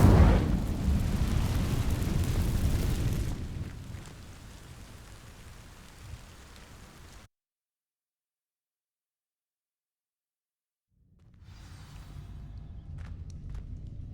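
In Hogwarts Legacy, the Incendio fire spell ignites dry vines with a loud, roaring whoosh that fades into softer crackling burn. It cuts to complete silence, then a low ambient rumble returns.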